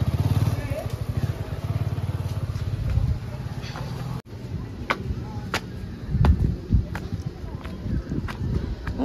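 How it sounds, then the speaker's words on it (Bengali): A motorbike being moved to park at Bishwarpara railway station idles with a steady low rumble for about four seconds, then cuts off, followed by scattered handling knocks and footstep-like taps nearby. "ভাই যাচ্ছে বাইকটা একটু ওদিকে রাখতে।"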